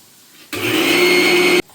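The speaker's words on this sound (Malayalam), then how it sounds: "അതുകൊണ്ടാണ് ഇപ്പോൾ മിക്സിയിലോട്ട് അരച്ചെടുക്കുന്നത്" A mixer grinder grinds onion paste, whirring loudly for about a second, starting abruptly and cutting off sharply, with a steady high-pitched motor hum.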